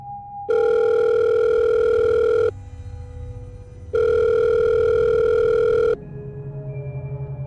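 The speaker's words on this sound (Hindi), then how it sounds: "उस वक्त तक जब तक उसकी पॉकेट में रखा फ़ोन नहीं बजा।" A mobile phone rings from inside a pocket in two long, loud electronic tone bursts with a short gap between them, close by and with no talking.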